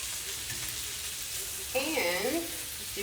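Smoked sausage with peppers and onions fries in a pan, giving a steady sizzle and crackle with a brief louder scraping stir partway through and no speech.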